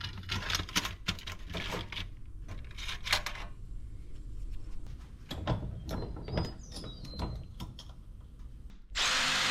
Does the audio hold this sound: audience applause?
no